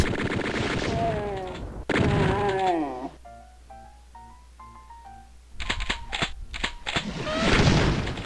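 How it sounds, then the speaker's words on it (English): Chaingunners fire at a turret on a Doom video game map: a few sharp, close bursts of rapid shots come late, after a stretch of tonal, groaning game sounds. "The chain gunners are fighting the turret."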